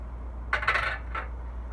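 A SharkBite ProLock reusable PEX plumbing fitting snaps into place with two brief, bright metallic clicks close by against a quiet background.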